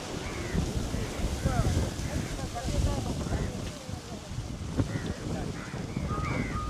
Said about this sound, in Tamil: காற்று வீசி கொண்டிருக்கு கடற்கரையில்